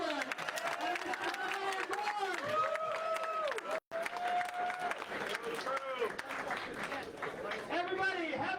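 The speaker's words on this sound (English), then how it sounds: "we have a nice round of applause for Mr. Earl Strickland and Mr." A crowd at Amsterdam Billiards applauds after a pool exhibition with Earl Strickland and Fedor Gorst. The clapping and crowd murmur stay steady in the background under an announcer who talks continuously over the room.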